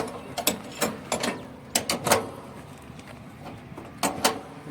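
Bolts being tightened on a boom barrier during installation, with a series of close metallic ratcheting clicks and knocks in uneven bursts over a low background hum and no speech.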